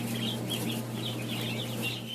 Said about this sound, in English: The chicken is a domesticated jungle fowl species